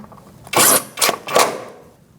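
A ratchet tightens bolts on the front inner fender liner of a 2016-2019 Chevrolet Cruze, heard as three loud, close bursts of rapid clicking separated by short pauses.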